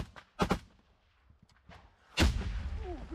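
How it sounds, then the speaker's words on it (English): Mortar strikes landing on a trench position: a couple of sharp, close blasts early on, then a heavy booming impact with a rumbling tail, separated by quieter, scattered noise. "This is probably a mortar strike."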